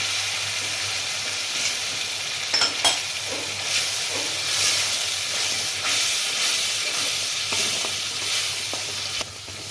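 Steady, close sizzling of spice paste with ground shrimp frying in a pan, with occasional scraping and stirring clicks over a constant hiss; no voices.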